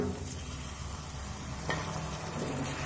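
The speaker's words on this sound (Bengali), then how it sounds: "আবার আমি ধনে জিরের গুঁড়ো দিয়ে দু মিনিট কষিয়ে নিয়েছি" Ground coriander and cumin sizzle and fry in a pan with chicken and chickpeas, a steady soft crackle with occasional stirring scrapes.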